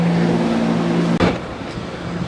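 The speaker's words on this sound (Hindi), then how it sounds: "ये है हमारी गाड़ी, ये सामने आ रहा है।" A car approaches at a traditional market in Panama with a low, steady engine hum that is broken by a brief thump, then settles into a rougher idle.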